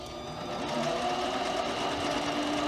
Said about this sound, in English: To make these lens clips, I'm using a piece of 3/8 inch diameter black Delrin rod on my mini lathe